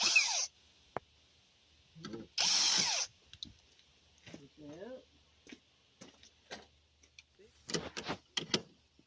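Thread insert tool being worked into a hole during repairs on a Wanderlodge bus: short bursts of power tool whirring, the first two loud, then quiet ratcheting clicks and handling noises, and a final cluster of bursts, with brief talk between.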